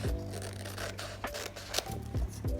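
Scissors snip around the edges of an iron-on transfer sheet in a run of short, close cutting and scraping strokes, with a faint tone under the blades.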